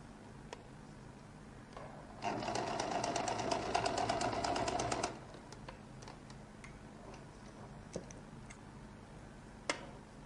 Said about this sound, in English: That's the edge of the collar. Sew by the side.